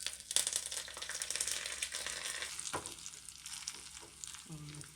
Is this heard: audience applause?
no